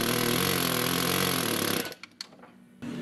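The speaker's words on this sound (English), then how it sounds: "Naturally, the first thing we tried was the power tools." Power tools work on an old diesel plow truck, with a loud, dense mechanical roar running for nearly two seconds before stopping abruptly, followed by a few clanks and a brief return of noise.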